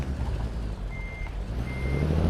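A truck in American Truck Simulator backs up to reattach a trailer, sounding two evenly spaced reversing beeps over a steady engine drone.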